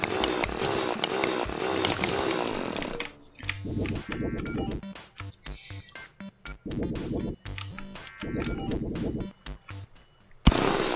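A drill weapon in the video game Terraria, whirring in loud buzzing bursts that start and stop over busy game music and effects, with several short gaps between runs.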